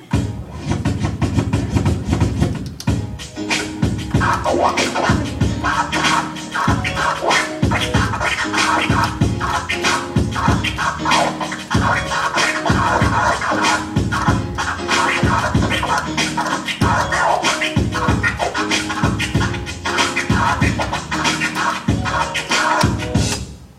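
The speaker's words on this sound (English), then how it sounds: "That's the crab scratch" Busy DJ crab scratching on a turntable, chopped rapidly with the crossfader over a loud, dense music track, the stuttering cuts riding on top of a steady beat throughout.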